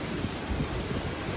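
Strong wind blowing at a hill station homestay, a continuous low roaring rush buffeting the microphone, steady and close with no talking.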